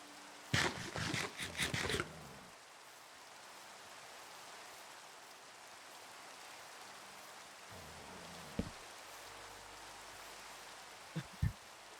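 Video game rain hisses steadily as a broad, even wash of noise, with a few louder bursts early on and scattered faint thumps later.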